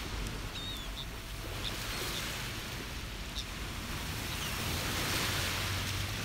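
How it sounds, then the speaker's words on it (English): Ocean waves wash onto a beach in a continuous broad roar, steady and fairly close, with wind noise mixed in and no voices. "And enjoying the sound of these waves with me."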